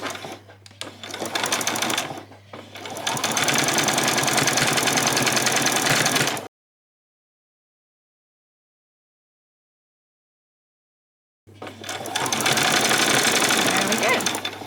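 Sewing machine running in long bursts while back stitching ruffles, loud and steady with a near whirring drone, cutting off into silence for several seconds before starting again.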